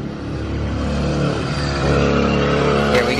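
Nissan 370Z with a straight pipe exhaust and no muffler, running straight from the cat, revving loudly and close by, rising from a raspy idle into a sustained roar.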